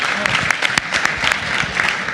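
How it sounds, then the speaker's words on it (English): Audience applause fills a room at an evening educational event, a steady dense patter of many hands clapping close by, with no pauses across the short stretch. "A round of applause."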